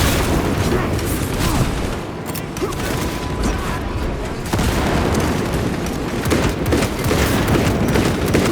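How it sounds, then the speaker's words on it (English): A frag grenade explodes in Warhammer 40000: Space Marine 2 amid loud, continuous battle noise, a dense roar of blasts and gunfire with a sharp burst partway through and voices mixed underneath. "Frag grenade deployed!"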